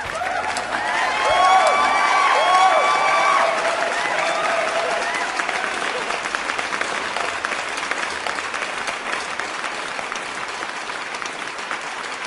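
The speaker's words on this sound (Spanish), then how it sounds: "recibamos con un fuerte aplauso" An audience at a biography presentation claps in sustained applause that swells early, then carries on steadily with scattered faint cheers for about twelve seconds.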